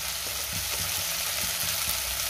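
Chopped tomato fries with turmeric, coriander powder and other spice powders in a pan, giving a constant close sizzle with soft scraping stirs through it.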